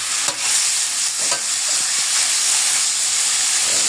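Pork liver sizzling in a hot pan while being stirred, a dense, loud and continuous hiss and crackle with a few scraping stirs near the start.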